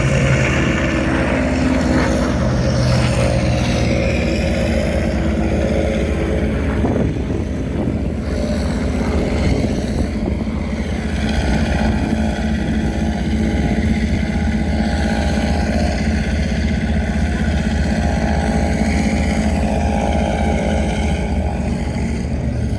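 Focke Wulf 190 warbird flying a mock dogfight with two Spitfires at an Australian airshow, its engine a steady loud propeller drone with shifting pitch as it passes, continuous throughout.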